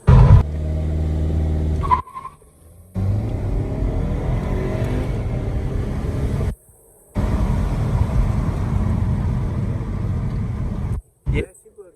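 Turbocharged Volkswagen Passat with cold air intake and bigger turbo accelerating hard, a loud sustained engine roar and road noise broken by brief cuts, with a short voice near the start.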